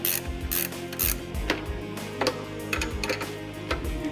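A ratchet tightens nuts on a tow hook clamp for a lightbar mount, giving rapid close clicking bursts in repeated short strokes, loud and with no speech.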